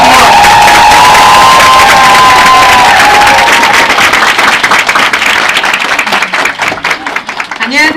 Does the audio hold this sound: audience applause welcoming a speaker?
yes